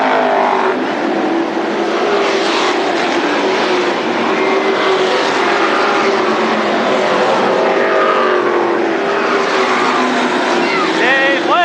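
Late model stock cars racing at Berlin Raceway, a dense, loud roar of several engines droning together without pause while an announcer talks over the field.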